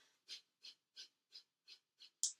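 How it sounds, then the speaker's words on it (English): Breath of fire breathing: seven quick, sharp exhales through the nose in an even rhythm, each a short close hiss, the last one strongest. "We're going to be doing sharp exhales through the nose."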